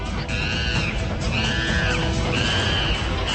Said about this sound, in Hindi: राजधानी के 12 इलाकों में लंगूर चीख रहे हैं